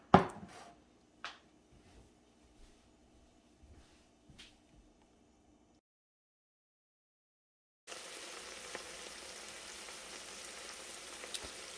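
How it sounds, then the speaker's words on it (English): Faint scattered taps and clatter give way to a steady, hissing sizzle of cabbage frying in a skillet after a brief silence. "we got the cabbage sizzling"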